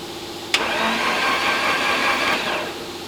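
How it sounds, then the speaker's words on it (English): A turbocharged SR20DET in an AE86 drift car cranks over on the starter after a sharp click, giving a steady, loud, close whirring drone for about two seconds before it winds down. "Cranking for turbo oil."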